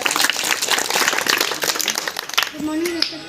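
An audience at a college NSS camp in Madhubani claps to welcome a speaker, dense steady applause that tapers off near the end as a voice starts to speak.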